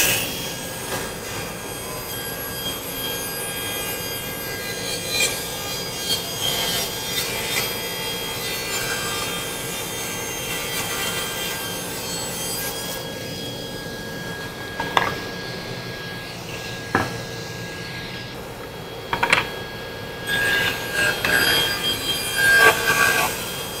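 A hand saw cutting an L-shaped notch in wood on an antique dry sink being restored, with steady rasping strokes close by that grow choppier and louder toward the end, and no talking.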